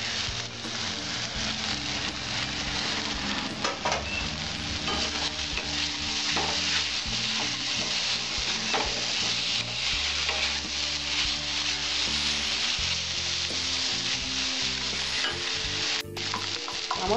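Steady sizzling of drumstick flower ghonto frying in a pan, Bengali style, with a spoon stirring and scraping throughout, close and continuous, with no talk.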